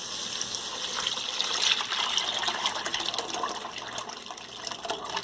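Toor dal lentils poured into a pot of water for lentil soup, giving a steady, close wash of splashing and trickling liquid that runs for several seconds without a break.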